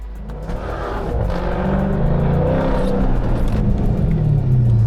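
A car accelerating hard and drifting, its engine rising in a long revving pitch sweep with tyre and exhaust roar, loud and close throughout without speech.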